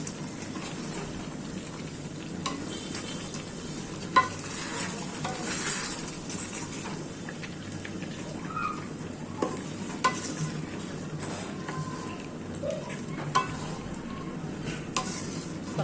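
Beef stir-fried with spice paste and onion, a continuous hissing sizzle with occasional light clinks and scrapes of the utensil against the pot.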